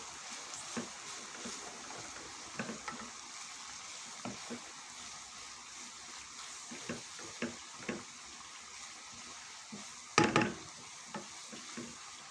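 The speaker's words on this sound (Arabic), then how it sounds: "برضه هديهم تقليبه كده مع البصل والبقدونس" Flour is stirred into onions and parsley in a pan for an Egyptian eggah, with soft, regular scraping strokes over a faint sizzle and one louder clatter toward the end.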